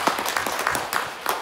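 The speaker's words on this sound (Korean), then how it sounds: "회장님을 박수로 맞이해 주십시오." A seated forum audience at a Jeju cultural policy discussion gives short, scattered applause to welcome the chairman of an architects' association, with a few distinct claps over a faint background voice.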